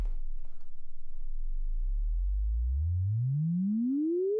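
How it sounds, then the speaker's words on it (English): A pure tone sweeps smoothly upward from a deep low hum to a higher pitch, steady and clean, alone without any voices. "you send a sine wave sweep"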